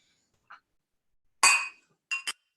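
A faint clink, then a louder bright glass-on-glass clink close by, followed by two quick ringing clinks, like glasses touched together in a toast.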